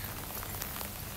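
Steady rain pattering on surfaces outdoors during an autumn hike in Hong Kong, a dense continuous hiss of drops with no voices.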